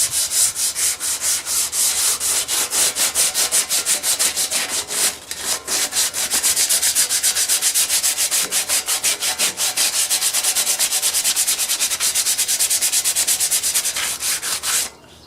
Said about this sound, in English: I'm going to finish sanding all this off